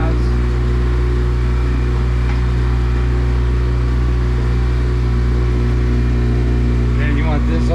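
A Yamaha F70 outboard motor on a 2017 Hewescraft 160 Sportsman boat runs on the water with a loud, steady engine drone. The throttle changes slightly throughout.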